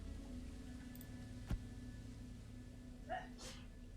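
A single short sneeze, faint and muffled, rises briefly over a quiet background hum with no talk around it.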